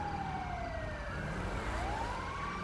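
Ambulance siren in a roleplay video game, a faint wailing tone that sweeps down and then back up over low traffic noise, with no talking.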